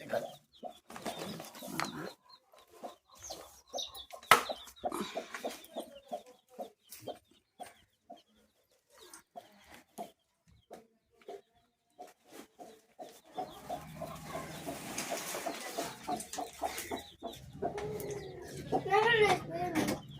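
A brooding hen of the parrot-beak chicken breed with her newly hatched chicks, clucking and peeping in scattered bursts and running chatter, close by and moderately loud, with quieter stretches between.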